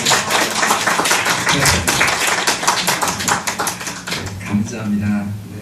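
A church congregation claps together during a joint worship service at Ungdo Church with a visiting Seoul Somang Church mission team. The steady, close applause lasts about four seconds before fading as a voice begins speaking.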